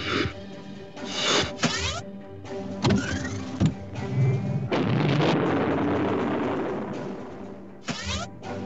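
Slug gun ship explosions in a video game, heard as a loud, busy run of booming blasts and crackling bursts, one swelling into a sustained roar before more scattered hits.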